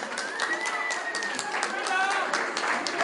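Wedding guests clap for the bride at a Turkish wedding ceremony, a dense steady patter of applause filling the room, with a voice and faint music carrying over the clapping.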